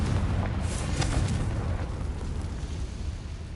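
A Confringo spell from Hogwarts Legacy bursts in a fiery explosion, a loud blast at the start that trails off into a long rumbling roar and crackle, with no talking.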